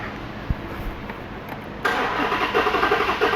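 A Dodge Chrysler HEMI engine being cranked for a compression test: a brief click, then a sudden switch to steady rhythmic cranking whirr with pulsing beats, close and continuous to the end.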